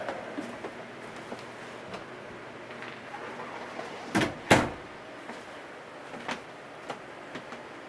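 A door into an upstairs model railroad room in a shop building, heard as two sharp, close knocks or clunks in quick succession and then quieter ticks against a low room hum.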